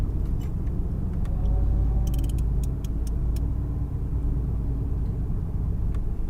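A Mercedes AMG GTR rolling slowly down a pit lane, its engine giving a low, steady rumble close by with a few faint clicks and ticks above it.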